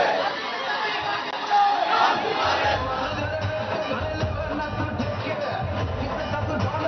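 Party workers crowd together celebrating Yuva Sena's election win outside Matoshri, with a dense babble of shouting voices and cheers that stays loud and steady.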